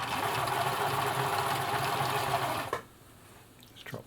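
A Husqvarna Viking Practica 4010 sewing machine runs a full-width zigzag stitch, a steady close mechanical whir lasting under three seconds before cutting off, followed by a few faint clicks.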